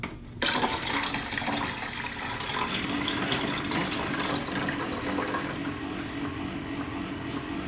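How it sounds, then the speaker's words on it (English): Water pouring into the reservoir of a Keurig K475 coffee maker, a sudden steady splashing rush that starts abruptly and runs continuously, fairly quiet and close, with no talking. "Wash the water reservoir and fill it with filtered water."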